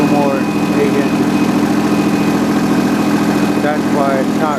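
A mower engine runs steadily and loud throughout while cutting an Imperial Whitetail clover field, a continuous droning hum with no break, a voice faintly present beneath it.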